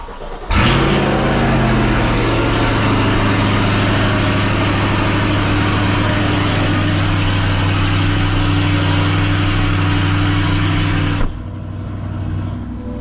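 Chevrolet C8 Corvette starting and settling into a loud, steady idle, a deep even drone heard close by for about ten seconds before cutting off abruptly.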